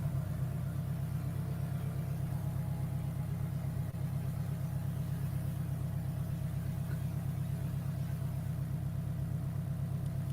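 A car engine in the video game Fortnite idles and rumbles steadily at a low pitch, fairly quiet and continuous throughout with no talking over it.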